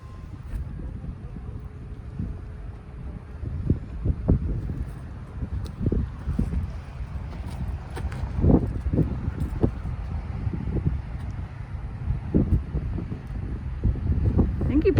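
Wind gusts across an outdoor disc golf course at The Saw, a steady low rumble of wind noise buffeting the microphone with rustling bursts, continuous and fairly loud throughout.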